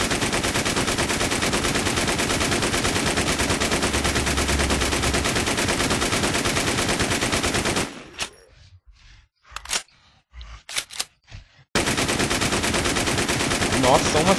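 Sustained automatic gunfire hammering at a super zombie in the survival shooter Infestation: The New Z, loud and continuous for about eight seconds, then broken into a few scattered shots before the rapid fire resumes.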